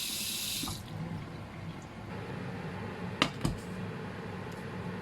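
Tap water pours into a pot for a Thai mushroom curry, starting as a steady hiss that cuts off, followed by a quiet room tone and two soft clinks or splashes.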